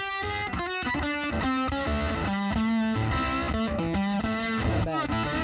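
An electric guitar played through distortion and effects, its tone shaped by a 2 kHz EQ boost, rings out in loud, edgy chords and single notes alone for several seconds.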